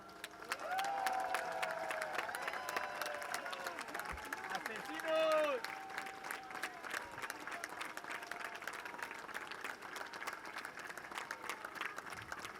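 Outdoor audience at a mock people's tribunal in Calais clapping together to vote, a sustained round of applause with some cheering, while voices carry over the crowd.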